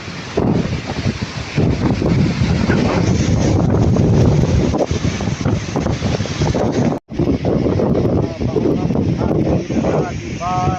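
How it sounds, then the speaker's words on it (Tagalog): Strong typhoon wind roars and buffets the microphone nonstop outdoors at a vegetable farm, a loud rushing noise with a brief dropout midway and faint voices near the end. "matatangay tayo ng hangin"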